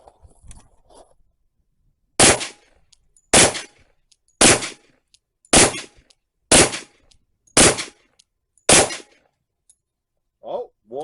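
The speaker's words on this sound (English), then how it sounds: "We're going to keep on shooting this thing." Seven sharp, loud gunshots from a Rock Island Armory Tac FS HC 10mm pistol ring out at an outdoor range, spaced about a second apart with quiet gaps between.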